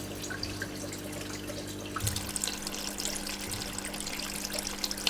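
Water drips and trickles softly during drip acclimation of aquarium shrimp, a faint steady flow over a low hum that brightens into a slightly livelier splashing midway, with no talk.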